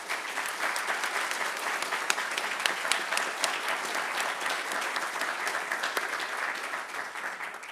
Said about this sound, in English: I'd love to take this opportunity to just give you a round of applause